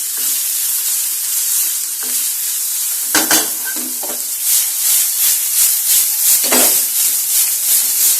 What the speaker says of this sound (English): In this we'll add some chopped onions and give this a nice mix.